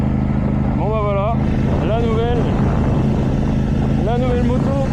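A 2023 Aprilia Tuono 660 A2 motorcycle under way loudly revs through several rising engine pulls with short shifts between them, over constant wind rush and low rumble, while a rider talks throughout.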